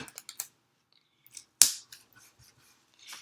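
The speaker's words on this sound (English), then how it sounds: "I'm going to tape it down" Tape being pulled and pressed down on paper pieces of a salmon headpiece, a few quiet crackles, then one sharp tearing rip followed by softer rustles and handling noises, close and alone.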